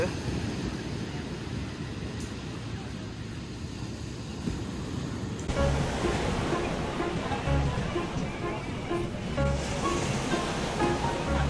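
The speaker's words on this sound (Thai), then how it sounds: "นั่งฟังเสียงคลื่น" Ocean waves wash onto the shore at Samui island, a constant broad roar of surf that grows fuller and louder about halfway through, heard alone without talk.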